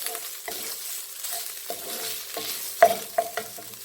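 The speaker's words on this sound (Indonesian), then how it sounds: "Ikan kita masukkan, diaduk terus juga ya." Stirring a pot of papaya flower vegetables in coconut milk with fish added, giving soft scraping and stirring noises over a faint simmer, with a few sharper knocks of the utensil near the end.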